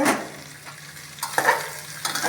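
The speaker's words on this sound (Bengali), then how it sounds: "সবজিগুলো ভাজা ভাজা করে নেব" Bottle gourd, carrot and potato frying in an open pressure cooker, heard as a soft close sizzle broken by a few stirring scrapes and clinks of a spoon on metal.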